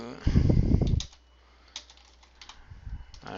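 Fast typing on a computer keyboard, close and clear: a dense burst of key clicks, a pause with a few scattered taps, then another short burst.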